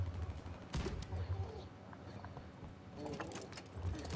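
Rapid gunfire bursts from a Call of Duty match, sharp cracks in quick clusters with a low rumble beneath and a player talking over the shots.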